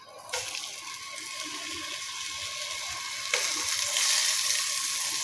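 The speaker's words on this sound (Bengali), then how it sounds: "এখন জালিটা আর কি ভাজবো।" Gourd pieces coated in turmeric and chili frying in a pan in a home kitchen, a steady close sizzle with faint clinks, growing slightly louder partway through.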